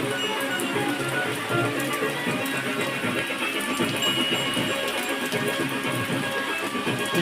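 Steady, dense hiss of rain falls continuously, loud and even throughout with no pauses.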